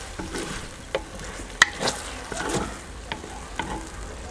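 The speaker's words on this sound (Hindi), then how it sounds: "दो से तीन मिनट के लिए इसे भी भून लेते हैं।" Ingredients for a village-style potato and spring onion sabzi stir-fry in a pan, a soft sizzle broken by spoon scrapes and taps against the pan, no voices.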